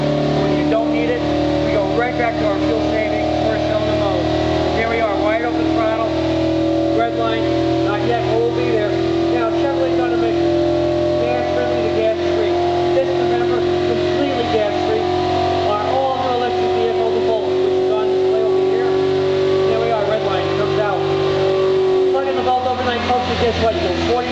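Chevy 5.3-litre Vortec V8 running on a dyno at an indoor car show, held at a steady loud drone with a slowly shifting engine tone and a drop near the end, while someone talks continuously over it.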